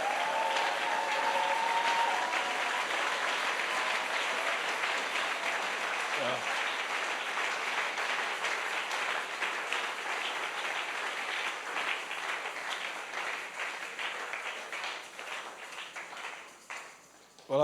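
A church congregation at a French-language thanksgiving service applauds the Lord in sustained, dense applause that fills the room steadily, then thins out and fades near the end.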